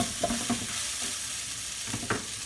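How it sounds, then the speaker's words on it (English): Chives and garlic fry in a pan, a steady close sizzle with soft stirring scrapes and small pops scattered throughout, no voices. "Now, the chives, move them around with the garlic."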